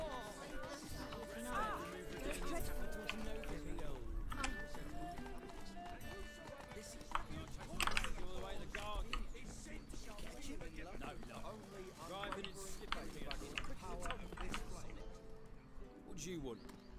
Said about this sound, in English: Am I just actually riding a different horse every time?